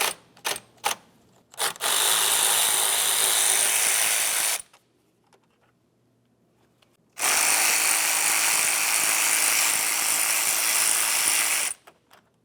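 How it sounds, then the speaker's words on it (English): An 8mm ratchet clicks as it removes the top fan shroud bolts on a 2004-2015 Nissan Titan during a radiator cooling fan replacement. A few quick clicks come first, then two long, steady stretches of fast ratcheting with a quiet pause between them. "We'll use an 8mm to remove both of these top bolts."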